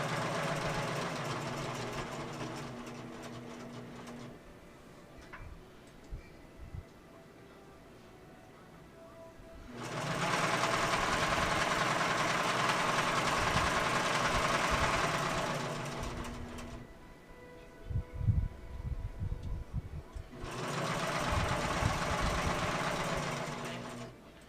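A sewing machine runs in three bursts while stitching the seam of a bingo bag, with steady mid-loud whirring and short quiet pauses between runs.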